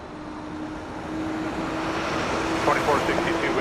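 A Transat Airbus A319 airliner on final approach at Toronto Pearson drones steadily at a distance, its engine hum slowly building in loudness, with a faint whine rising near the end.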